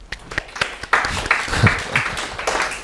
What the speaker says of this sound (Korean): 자, 우리 한 박수 한번 칠까요?